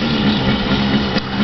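A 125cc dirt bike engine idles steadily close by, a low continuous hum with a slight hitch near the end and no talk.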